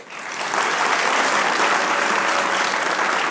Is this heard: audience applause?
yes